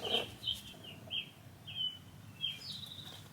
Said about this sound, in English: There's a really loud bird video on the TV.